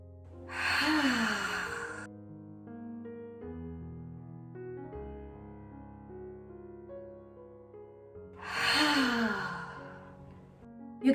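Slow deep breaths in a breathing exercise for the lungs and anxiety relief: a long airy exhale at the start, a quiet held stretch with a low tone underneath, then another breathy rush near the end.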